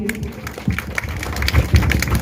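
A school audience in Patna breaks into dense, lively applause to welcome guests at a school event, heard close and continuous.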